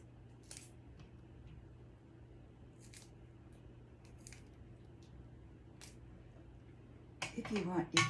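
Several short crisp snips of scissors cutting green beans ring out at irregular intervals against a quiet room, ending in a burst of louder rustling and crunching handling.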